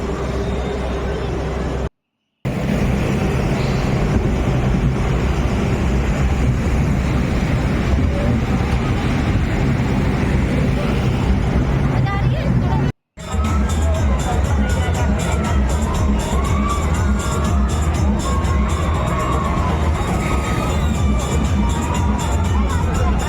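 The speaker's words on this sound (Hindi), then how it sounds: "और यहाँ पे हमारी ड्रैगन राइड स्टार्ट हो जाती है" Dragon amusement ride at a fair exhibition starting up, with continuous loud crowd noise, mechanical rumble and cheering nearby, broken by two brief dropouts.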